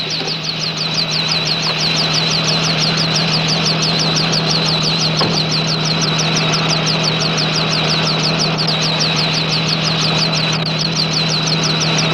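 Helicopter engine and rotor running steadily and loud, a continuous low hum with a fast rhythmic chopping pulse throughout, no voices.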